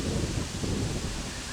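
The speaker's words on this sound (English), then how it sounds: "Oh, it suddenly went really windy. Like really windy." Strong wind roars steadily and loudly, buffeting the microphone with a dense, continuous rumble.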